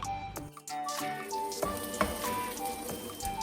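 Chopped onion and green chillies sauté in hot oil in a pan, giving a steady close sizzle and crackle with faint stirring and clinks, no voices.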